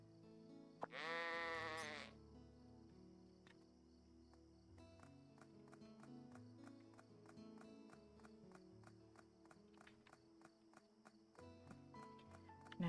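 A sheep in a video game lets out one loud, wavering bleat, followed by steady clip-clop footsteps and light game background sounds, with no talking.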